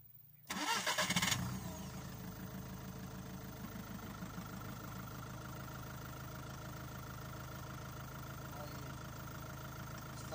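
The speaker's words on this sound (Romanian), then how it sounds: "Mașina pornește, doar dacă calci ambreiajul." A 2010 VW Golf 6 Bluemotion engine cranks briefly with a loud whirring starter, catches, and settles into a steady, quiet, slightly ticking idle that runs on alone for many seconds.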